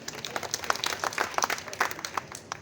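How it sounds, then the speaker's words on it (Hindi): Audience at a poetry recital during a Ganesh festival event applauding, a dense burst of clapping from a crowd, moderately close and sustained throughout. "इनके लिए भी ताली बजा दीजिए।"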